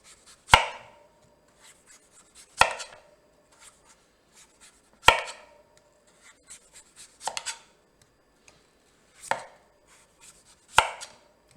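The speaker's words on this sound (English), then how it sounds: "take your knife all the way around the edges" A knife works around the edges of a hard butternut squash on a cutting board in six sharp, separate chops spaced about two seconds apart. Each one is close and crisp with a short ringing tail, and faint scraping sounds fall between them.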